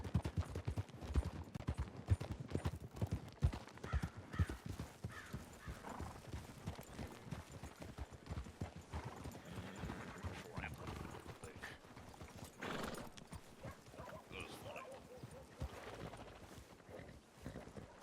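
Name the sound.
horse hooves clip-clopping in a video game (WildRP)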